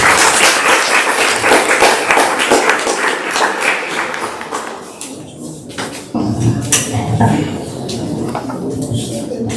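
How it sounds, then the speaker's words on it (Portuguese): Audience applause at an International Women's Day lecture, a dense burst of clapping from a crowd that tapers off midway, then resumes with scattered claps and room noise. "Uma salva de palmas, por favor."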